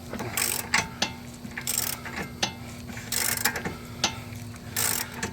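A ratchet wrench clicks in quick bursts while working on the front wheel bearing of a 2013 Hyundai Sonata, several loud close ratcheting runs separated by short pauses over a faint steady hum.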